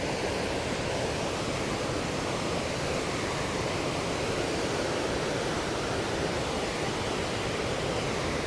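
Water pours over the Unnichai reservoir bund in Batticaloa, a continuous, loud rushing roar that stays steady throughout with no voices.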